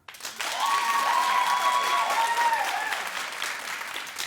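Loud, continuous clapping from a television talk show's studio audience fills the stretch, with whoops and raised voices riding over the applause before it slowly thins toward the end.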